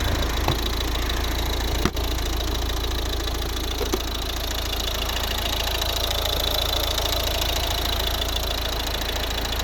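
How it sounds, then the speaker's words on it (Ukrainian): The engine of a 2012 Volvo V50 idles steadily with an even mechanical hum and faint ticking, close by, with a single sharp click early on and no voices. "Ось робота двигуна."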